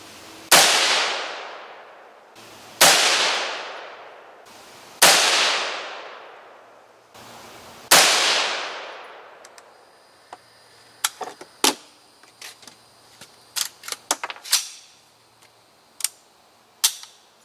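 A Colt SP1 AR-15 carbine fires four sharp, loud shots at roughly two-second intervals on a 100-yard range, each with a decaying echo, followed by a scatter of lighter clicks and clanks.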